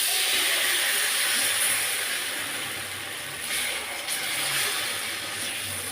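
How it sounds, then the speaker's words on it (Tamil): Dosa batter made with mudakathan keerai sizzles steadily on a hot oiled nonstick tawa, a continuous close hiss with faint crackling throughout. "நான்ஸ்டிக் தவானா நம்ம அப்படியே தோசை ஊற்றிக்கலாம்"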